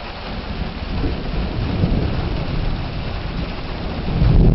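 A loud thunderstorm with steady heavy rain and rolling thunder that swells toward the end, filling the whole stretch with a dense roar and no voices.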